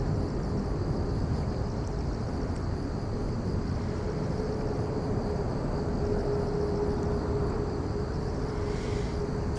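Airbus A330-300 airliner at Incheon airport, a steady loud low engine roar with a sustained tonal whine, continuous throughout with no talking.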